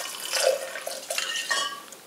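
Scotch whisky poured generously into a cocktail glass over a mix, a close, soft liquid splash and trickle lasting about two seconds.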